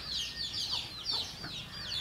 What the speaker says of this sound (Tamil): அது கூடவே மற்ற கோழி குஞ்சுங்களாம் வந்து மேயுது பாருங்கள்